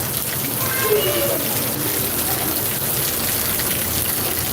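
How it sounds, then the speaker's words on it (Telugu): Heavy rain pours steadily during a thunderstorm, a dense continuous wash of water noise at even loudness throughout, with faint indistinct sounds underneath. "వర్షం అయితే మామూలుగా లేదు"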